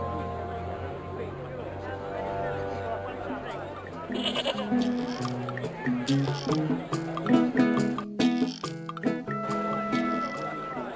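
Goat bleating in the adventure game Broken Sword 2: The Smoking Mirror, several wavering bleats over game ambience with a narrating voice and wet squishy noises.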